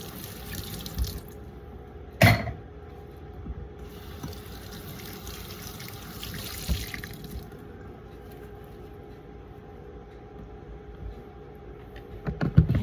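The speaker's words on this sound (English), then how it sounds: "Now I have to wash my spoon again." A spoon washed under a running kitchen tap in a mobile home: water streams steadily into the sink, with a clink of metal early on, the flow cutting off partway, then clattering handling at the end.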